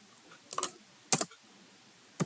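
Keys tapped on a computer keyboard while entering numbers, three short bursts of clicks separated by pauses, close and fairly quiet with no talking.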